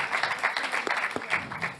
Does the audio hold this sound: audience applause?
yes